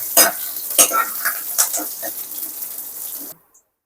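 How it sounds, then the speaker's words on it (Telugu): Garlic cloves, curry leaves and dried chillies hit hot tempering oil for a South Indian dal rasam, giving a loud, close sizzle with stirring scrapes and bursts of crackle that fades gradually before cutting off abruptly. "ఇలా 4 వెల్లుల్లిపాయలు రెప్పలు చిదిమి పెట్టుకున్నాను. కరివేపాకు, 2 ఎండుమిరపకాయలు, పోపులో దాంతోపాటు ఇది వేసేస్తున్నాను."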